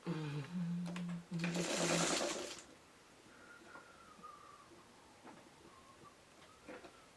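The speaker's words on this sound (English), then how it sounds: "now we're just going to sew it just like this" Sewing machine stitching a quilt block for a bow block pattern, running in a loud steady burst for about two seconds near the start, then quiet room tone with soft rustling.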